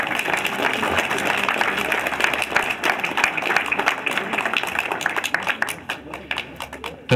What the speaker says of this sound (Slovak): toto si ocenenie zaslúži potlesk